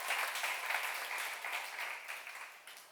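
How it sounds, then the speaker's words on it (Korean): A church congregation at a seminar claps together, a soft, even wash of applause heard at a distance and fairly faint throughout. "박수"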